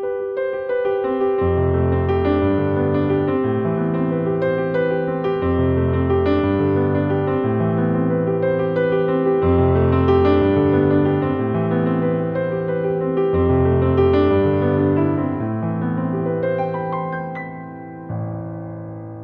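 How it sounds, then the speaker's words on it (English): A solo piano plays a short riff with a steady repeating bass pattern and bright chords on top, clear and close, ending on a fading note. "show you how to play a simple but pleasing piano riff that sounds like this"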